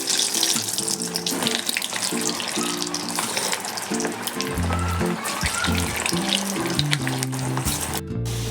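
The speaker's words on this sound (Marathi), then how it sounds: "आता आपण वड्या तळून घेऊया।" Coriander vadi (kothimbir vadi) deep frying in hot oil, a dense, continuous loud sizzle and bubbling close by throughout, with no speech.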